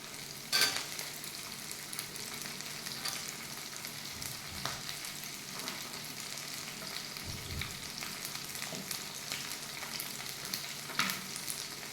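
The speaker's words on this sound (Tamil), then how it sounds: "ஆனியன் வதங்கும் போதே இஞ்சி பூண்டு போட்டுக்கலாம்." Onion frying with ginger and garlic for a chicken gatti kulambu, a steady close sizzle with occasional stirring scrapes and no talking.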